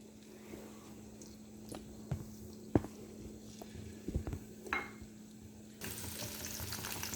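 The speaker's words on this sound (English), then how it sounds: "Deep fry the babycorn" Baby corn deep frying in hot oil over a high flame, a quiet bubbling sizzle with scattered pops and clinks, growing into a fuller hiss near the end.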